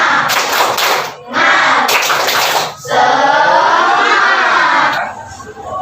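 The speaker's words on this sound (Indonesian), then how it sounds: "Tepuk semangat" A primary school class claps together in a spirit clap, loud bursts of hands in two quick rounds, then a longer stretch of clapping and cheering from the group.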